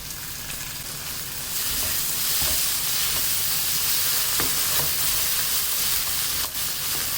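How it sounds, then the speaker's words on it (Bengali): Ginger garlic paste goes into a hot pan and the frying swells into a loud, steady hiss with a few light stirring clicks. "আদা রসুন বাটা দিয়ে দিচ্ছি"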